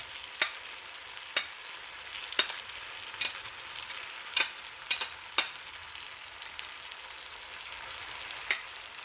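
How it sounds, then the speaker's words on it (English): Dry quinoa frying in a pan with no water, a soft steady sizzle broken by scattered sharp pops and crackles, fairly quiet and close, with no talking. "it fries up so much better. When it's waterless."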